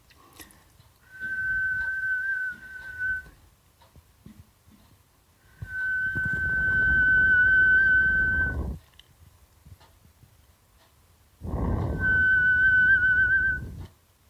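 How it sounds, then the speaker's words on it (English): Three loud, steady tooth whistles, the Parker whistle made through the mouth, each a sustained pure tone lasting two to three seconds, with quiet pauses between them. "let's start off with the Parker whistle"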